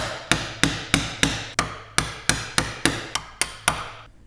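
A hammer drives a chisel through wood to cut a hand-made dovetail joint: about thirteen sharp, close knocks land at an even, quick pace, each with a short ringing decay, and no voices are heard.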